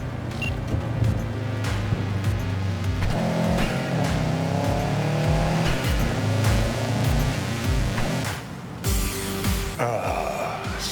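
A car driving in Cyberpunk 2077, with a steady engine drone and shifting revs running throughout, plus a brief change in tone near the end.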